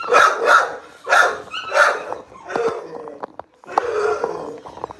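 A puppy barks and yips in a quick run of close, loud bursts, then gives softer whimpering and scrabbling sounds; no one speaks.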